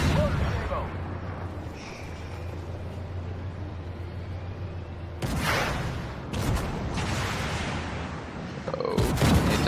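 Leopard 1A5 tank cannon firing HE rounds in Armored Warfare, a few sharp booming shots with rumbling decay standing out over a steady engine drone, while someone talks.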